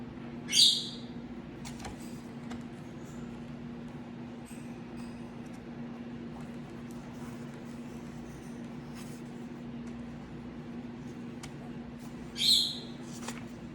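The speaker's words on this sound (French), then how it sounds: "Désolée pour les oiseaux" Birds outdoors give two brief, bright chirps, one near the start and one near the end, over a steady low hum with no talking.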